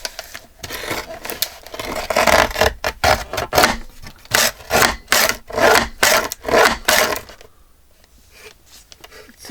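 A deckle edge tool drags along the edge of dyed paper being trimmed for a grungy journal, giving a rhythmic run of loud, close scraping strokes that fades to quiet near the end.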